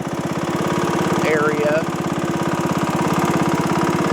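A lawn mower engine runs steadily and close by, a loud, even idling drone with a rapid pulsing beat throughout, while a voice speaks briefly over it.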